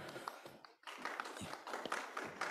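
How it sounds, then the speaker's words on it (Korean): Audience at a public talk on citizenship and the commons claps energetically, a dense continuous patter of many hands filling the whole stretch at moderate loudness, with a brief dip partway through. "박수는 열정적으로"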